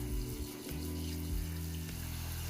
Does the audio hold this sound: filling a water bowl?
yes